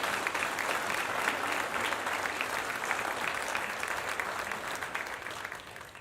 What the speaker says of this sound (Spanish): Eso se aplaude.